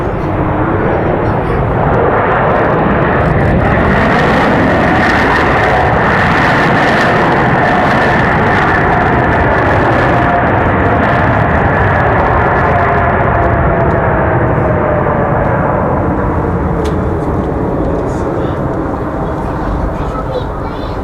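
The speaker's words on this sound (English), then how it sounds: "So that A220 300 touching down again from Boston." An Airbus A220-300 jet arriving from Boston touches down at Raleigh-Durham airport, a steady broad roar of engines and rushing air holding loud throughout with a faint rising whine, heard from fairly close.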